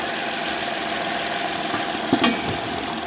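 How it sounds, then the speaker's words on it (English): A steady car engine running without a fuel pump idles continuously at close range, with a couple of brief mechanical knocks near the end. "The engine is still running,"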